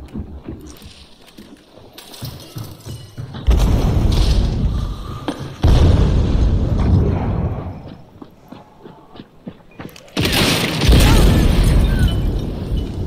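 Several heavy explosions, a grenade blast in Hunt: Showdown among them, each a sudden loud boom with a rumbling tail, separated by quieter stretches of ambient game noise.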